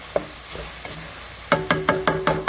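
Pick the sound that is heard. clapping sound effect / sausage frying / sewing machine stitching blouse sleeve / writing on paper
sausage frying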